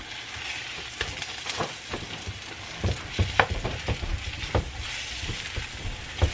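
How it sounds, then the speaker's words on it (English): Onion and garlic sizzle and crackle steadily in a hot pan, with occasional scraping stirs and pops, close and continuous. "we're going to go ahead and add the onion and the garlic. And then we're going to keep frying this up"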